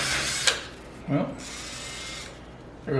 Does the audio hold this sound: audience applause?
no